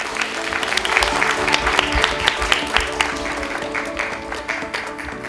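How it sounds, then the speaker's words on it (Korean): Steady applause from a sizable crowd at a business briefing on an AI project, a dense patter of clapping that holds level and begins to thin toward the end. "여러분 힘찬 박수로 환영해 주시면 감사하겠습니다"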